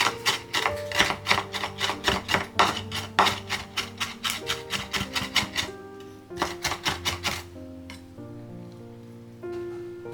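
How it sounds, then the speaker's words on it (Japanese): A knife finely mincing squeezed pickles on a cutting board: a fast, steady run of close, crisp chops that pauses briefly, then resumes in shorter bursts, with a musical background underneath. "お漬物は細かくみじん切りにしていきます。"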